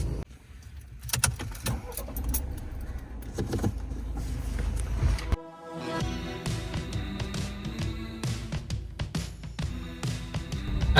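A Ford Maverick unibody pickup on the move in the city, its engine and road noise steady and close, with clicks and rattles from inside the cab and a brief drop partway through.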